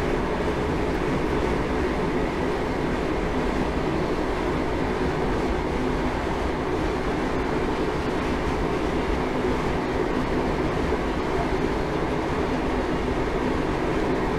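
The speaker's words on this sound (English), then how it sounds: "I'm just going to shut off the power and allow the train to coast" A passenger train in Train Simulator 2021 coasts with power shut off on the Derwent Valley line between Nottingham and Matlock, passing Beeston Yard, giving a steady, continuous rumble of wheels and carriage noise with no voices.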